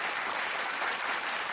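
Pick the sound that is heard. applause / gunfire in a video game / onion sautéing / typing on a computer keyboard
applause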